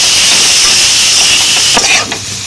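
Jackfruit pieces frying in mustard oil give a loud, steady bright hiss and sizzle throughout, with a few faint stirring scrapes near the end and no talk.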